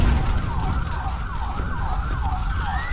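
An ambulance siren in a video game wails with a steady rising-and-falling yelp that repeats throughout, loud over a low rumbling engine bed.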